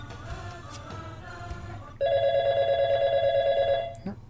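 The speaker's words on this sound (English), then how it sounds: "Phone." A video-game telephone rings with a steady electronic trill that starts midway and runs nearly two seconds, loud and close over a low background music bed; no one speaks.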